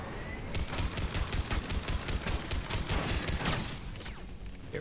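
Rapid automatic gunfire in the shooter Mass Effect 3, a sustained burst of closely spaced shots with mechanical clatter, ending in a sharper crack and a fading whoosh.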